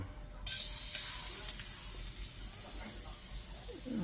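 Garlic sautés in a pan with a soft, steady sizzle that begins abruptly and then gradually fades while staying close and fairly quiet.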